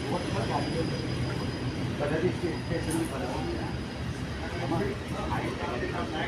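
A moving passenger train in Toronto, Canada, heard from inside the carriage: a steady, dense rumble and rattle that stays constant throughout, with voices talking over it.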